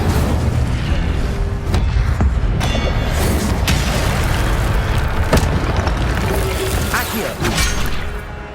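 Incendio fire spells blast again and again during combat in Hogwarts Legacy, with loud, dense booming and crashing bursts that pile up over a steady roar and barely let up.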